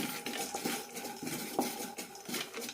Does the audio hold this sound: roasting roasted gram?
yes